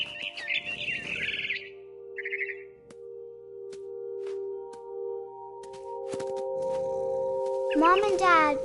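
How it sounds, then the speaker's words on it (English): A barn swallow chirping in a video game: quick high twittering bursts at the start and again near the end, over sustained soft musical tones in a quiet scene. "Then I heard chirping outside my window. It was a barn swallow going back to her nest."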